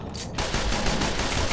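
Pistol gunfire in the video game Tribes Ascend, a rapid stream of sharp shots fired in a dense, continuous burst, loud and close after a brief quieter lead-in.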